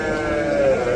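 A goat bleats in a single drawn-out, wavering call at a village cattle market, close and fairly loud over a steady background murmur.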